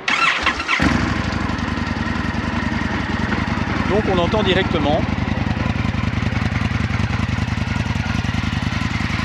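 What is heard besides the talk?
motorcycle engine starting, Akrapovic exhaust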